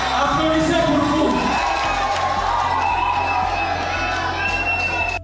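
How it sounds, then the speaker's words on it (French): A crowd at a grand stage show in a French-speaking setting cheers and shouts loudly and continuously, with whoops and a dense roar of voices sustained throughout, ending with a sudden drop. "Applaudissez pour vous."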